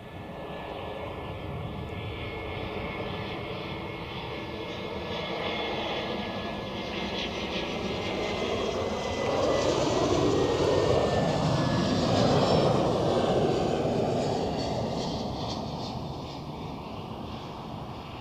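Airliner engines roar steadily at Zurich Airport, a broad sustained rumble with a whining tone that swells louder toward the middle and eases off, heard alone with some wind.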